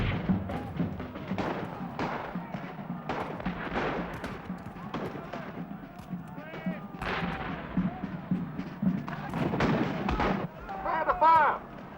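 Cannon fire at a Battle of Warwick 1642 reenactment booms repeatedly among sharp musket-like cracks and crowd noise, with shouting voices mixed in throughout.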